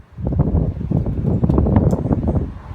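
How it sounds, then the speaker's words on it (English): Steady wind buffets the microphone, producing a continuous low rumbling roar with gusty fluctuations and faint rustling. "It's a little windy"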